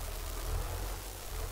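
A low, rumbling Fendt tractor engine in Farming Simulator 22 idles steadily at moderate volume, a continuous mechanical drone with no other sounds.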